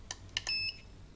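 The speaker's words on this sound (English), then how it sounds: "every time you push a button on the standard TH9X transmitter, a beeping noise will be emitted" An electronic beep from a TH9X radio control transmitter button press: a few short, quiet chirps followed by one slightly longer tone, heard close up against near silence.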